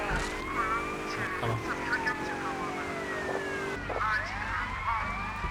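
Police car siren in the video game GTA Vice City: a wailing siren sweeping up and down repeatedly, fairly close, with game engine noise underneath and a pitch restart near the end.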